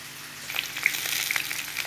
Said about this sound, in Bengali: আলুগুলো একটু ভাজা ভাজা হয়ে এসছে।